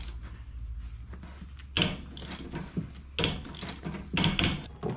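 Ratchet wrench clicking in bursts while loosening a corroded, deteriorated plate on a neglected used luxury SUV, with the ratcheting rising in several loud close spurts over a steady low hum.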